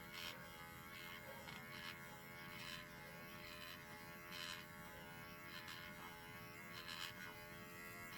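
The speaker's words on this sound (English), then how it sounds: "when you got 36 needles going at once, you're getting some work done" A tattoo machine running 36 needles into skin, a faint, steady electric buzz with a constant hum that holds evenly throughout, with slight pulsing as the needles work.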